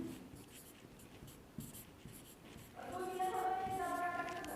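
Writing on a board during a chemistry lesson, soft scratchy strokes at a low level, then a louder tonal squeak of the marker over the last seconds, with a faint voice in the background.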